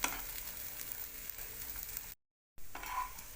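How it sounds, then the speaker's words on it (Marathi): Guar bean pods roasting in a hot pan, giving a steady close crackling sizzle that cuts out briefly in a silent gap and then resumes. "गवारीच्या शेंगांना देखील असे काळसर डाग पडले पाहिजेत, म्हणजे मग ते व्यवस्थित भाजले गेले असं समजायचं."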